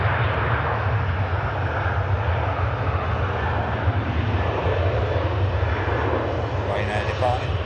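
An airliner departs an airport with a loud, steady, broadband engine roar that holds throughout, while voices murmur faintly beneath it.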